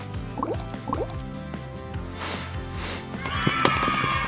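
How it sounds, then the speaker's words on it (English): Thick pineapple scrub is poured into a jar, giving wet glugging drips and squelchy splats, with a brighter clinking rattle near the end. "Kitty, you want to try pouring it into the jar yourself?"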